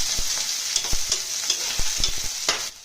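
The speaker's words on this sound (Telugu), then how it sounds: "ఇట్లా బాగా వేగనివ్వాలండి" Chopped onions frying in a pan for pakodi pulusu, a steady close hiss with a run of sharp spoon-scraping stirs knocking against the pan, no voices.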